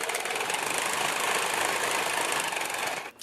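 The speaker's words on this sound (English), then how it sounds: "So I'm going to sew the collar together," A sewing machine runs continuously while stitching the collar seam of a leopard print top, giving a loud, dense, even whir that stops abruptly near the end.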